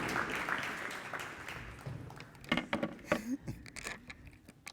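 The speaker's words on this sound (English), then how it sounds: "Keep that applause going" Audience applause at a high school letter-of-intent signing ceremony, scattered clapping that thins into sparse individual claps and a few louder hand claps toward the end, with faint crowd murmur.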